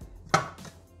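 A brief burst of whirring and chopping as a Thermomix food processor chops parsley and basil, with one sharp chop followed by a softer second pulse, close and moderately loud.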